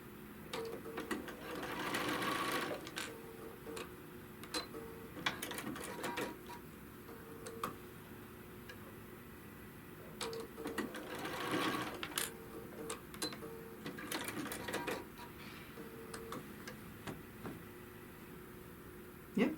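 A sewing machine stitches a quilt tack on a five-yard quilt, running in two main bursts with rapid needle ticking and brief pauses between, close and moderately loud.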